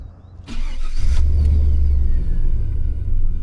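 A pickup truck's engine catches and revs hard during a wheelie attempt, a loud low rumble building after a brief start and holding steady close by.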